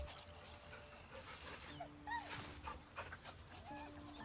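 Scratch, the dog in Baldur's Gate 3, pants softly with faint whimpers over quiet game ambience and musical tones, while someone talks quietly.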